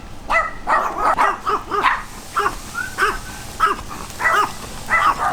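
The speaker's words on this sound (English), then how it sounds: "Guard dog." A guard dog barks in a rapid series of loud, close, sharp woofs with brief gaps between them, heard alone with no talk.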